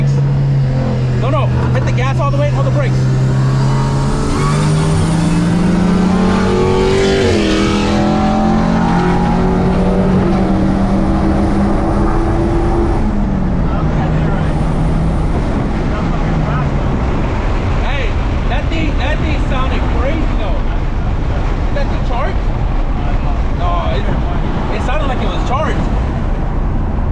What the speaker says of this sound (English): hit the gas all the way and hold the brakes